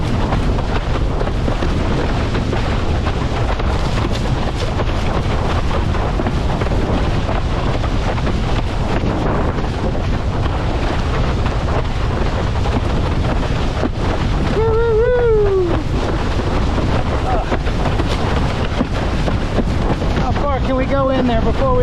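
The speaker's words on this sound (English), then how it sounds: "We're getting a little venturi with the wind pushing up between here and the island" Steady wind buffets a sailboat cruising near an island, with continuous broadband rush and water noise throughout, plus a brief creaking tonal squeal midway and faint voices.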